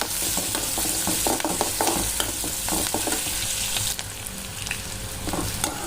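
Onions sizzle and fry in hot oil for tomato chutney, a steady close crackle with occasional stirring scrapes throughout, no talking.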